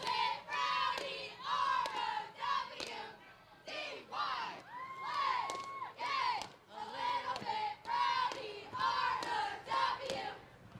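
High school cheerleaders chanting a rhythmic cheer at an outdoor Halloween parade, a group of young voices shouting in unison in repeated bursts with short pauses, clear and fairly close.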